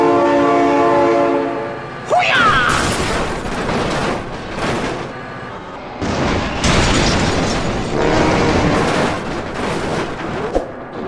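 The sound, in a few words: train with horn in video game BeamNG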